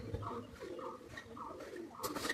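Golden China pigeons coo in a series of soft, throaty rolling calls, fairly close and quiet, with a brief rustle near the end.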